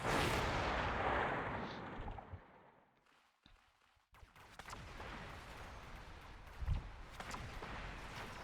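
A missile strike in the mech battle game Mechabellum booms and rumbles at first, fades into near silence, then erupts again with sharp blasts and a continuing crackle of battle noise, with another heavy thud near the end.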